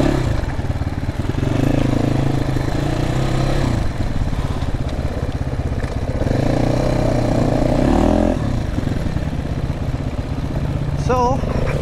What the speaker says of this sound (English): really enjoying this engine.